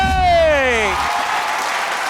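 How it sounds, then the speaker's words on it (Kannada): Studio audience applause on a Kannada TV game show swells as a brief falling musical tone fades, then continues as a steady, even wash of clapping. "ಬರ್ಲವ್ರಿಗೆ ಜೋರ ಚಪ್ಪಾಳೆ"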